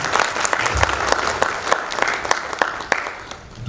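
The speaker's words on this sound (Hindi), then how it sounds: "एक बार तालियों से स्वागत है।" Applause from an audience at an officer's farewell ceremony, a sustained patter of many hands clapping indoors, fairly loud and even, with scattered sharper claps and faint voices underneath.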